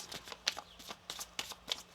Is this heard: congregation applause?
no